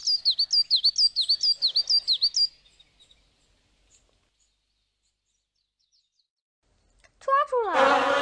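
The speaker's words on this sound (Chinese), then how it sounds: "有一只小鸟，我要去抓住它" Cartoon bird in a children's animation chirps in a quick, even run of about ten bright tweets, followed by a long near-silence and then a sudden loud, voice-like burst at the end.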